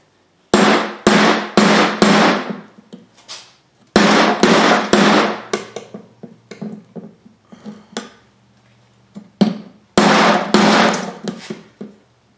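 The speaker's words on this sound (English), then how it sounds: "I should be able to just tap this in here" Metal-on-metal hammer taps setting a front brake part on a 2005 Chevy Trailblazer: loud, sharp, ringing strikes in clusters of three to four blows separated by pauses, close up and heard alone.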